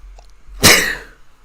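A single sharp human sneeze bursts out close to the microphone after a moment of near silence, then quickly fades away.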